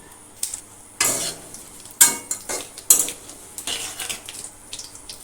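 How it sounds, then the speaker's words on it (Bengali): Whole cumin, two dried chillies, bay leaf and cinnamon crackle in hot oil in a kadai, with several sharp clanks of a spatula against the pan over a soft sizzle. "কড়াইতে তেল দিয়ে দিলাম গোটা জিরে, দুটো শুকনো লঙ্কা আর তেজপাতা, দারচিনি।"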